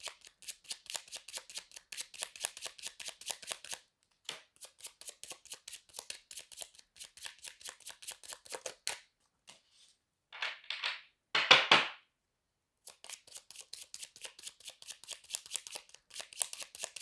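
A deck of tarot cards is shuffled close up in rapid riffling bursts of several seconds each, broken by short pauses and a few louder slaps as the cards are squared. No one speaks.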